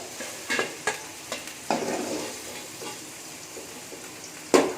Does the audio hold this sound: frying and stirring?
yes